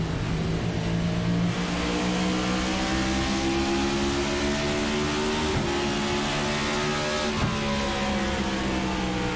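Stock-car engines in a sim racing game at Richmond, a steady loud roar of a pack of cars running together with rising and falling pitch throughout, with no talk.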